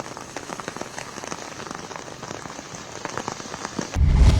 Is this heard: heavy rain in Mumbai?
yes